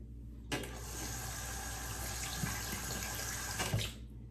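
Tap water runs steadily to wet a Blackland Blackbird safety razor before shaving, a close, even rushing splash that starts abruptly, holds for about three seconds with a few small splashy bumps, then cuts off.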